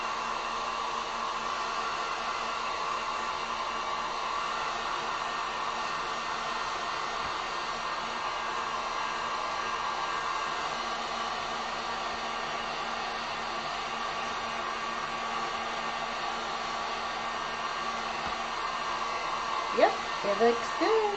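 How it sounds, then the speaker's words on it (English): A heat gun blows steadily over acrylic paint, a loud, continuous whooshing hiss close by with only a faint shuffle near the end. "let me throw this with the heat gun real quick, just to make sure we're good"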